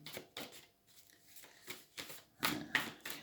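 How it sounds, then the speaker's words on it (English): A tarot deck shuffled by hand in rhythmic bursts of soft riffling and card slaps, about eight quick quiet pulses, close and alone. "The deck was messy when I finished shuffling."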